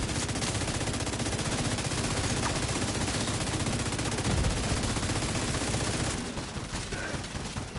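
Continuous rapid automatic gunfire in The Division 2, a dense, steady rattle of shots at close range that holds loud and unbroken throughout, with no talking over it.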